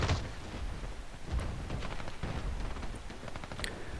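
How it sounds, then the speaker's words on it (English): Rapid assault-rifle fire in Battlefield Play4free, short dense bursts of shots over a constant noisy battle backdrop, loud and continuous throughout with no talk. "it just shoots so fast that even when you have to shoot in small bursts, it still hits them about 2 or 3 times"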